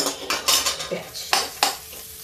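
Chopped onion drops into hot oil seasoned with cumin, fennel and asafoetida in a kadhi pan, giving a close, sharp sizzle burst followed by clinking spoon-on-pot stirring and scraping sounds.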